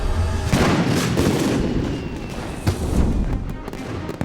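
Festival fireworks burst loudly during the Anhui Shexian fish lantern festival at Lunar New Year, with a dense, continuous barrage of booms and crackles and several sharper reports standing out.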